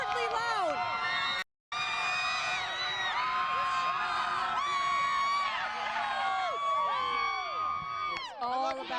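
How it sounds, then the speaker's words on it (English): Nashville fans at a 2007 girls' high school basketball quarterfinal in an arena cheer, whoop and shout loudly and continuously, a close crowd roar with one brief dropout near the start. "they're cheering for their team"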